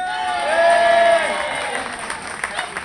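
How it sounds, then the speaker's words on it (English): Audience applause and crowd noise for a woodcutting competition contestant at a New Year's Eve event, with a voice briefly rising over the clapping before it thins out. "So a round of applause you think, our John should win this"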